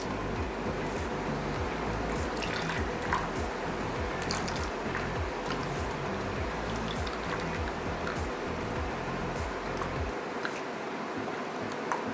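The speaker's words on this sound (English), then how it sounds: "we're going to pour it" A mix of plaster of Paris and cold water, two parts to one, is poured in a steady, close, liquid trickle with soft dripping, stopping abruptly near the end.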